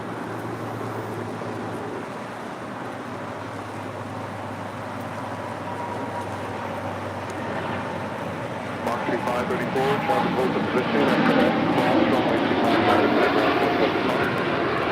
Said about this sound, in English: We have United Flight 39 now rolling. 787-10 Dreamliner headed out to Tokyo